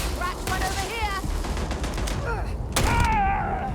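Rapid bursts of gunfire in the space shooter Starfield on Xbox Series X, close and loud, with a shouted voice and groans mixed into the fight and a heavier volley near the end.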